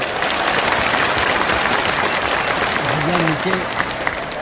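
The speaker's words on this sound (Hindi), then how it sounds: "ताली जोर से बजा दें, जोर से ताली बजाएं।" A crowd at a political meeting in a Patna auditorium claps steadily and loudly throughout, with a few voices rising briefly over the applause near the end.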